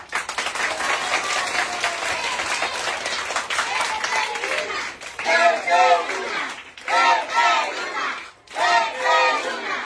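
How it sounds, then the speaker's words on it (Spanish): A crowd at a community soup kitchen gathering on a hillside applauds and cheers for a congressman, loud sustained clapping that then breaks into rhythmic chanting bursts with short pauses between them. "¡Aplauso para el doctor Luna!"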